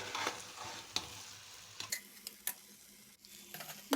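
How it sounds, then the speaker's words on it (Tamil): Chicken biryani masala seasoned with chilli and turmeric being stirred in a pressure cooker, soft scraping strokes and light sizzling with a few sharp clicks of the spoon against the pot, close and fairly quiet. "இப்போ நல்லா கிளறி விட்டுக்கலாம்."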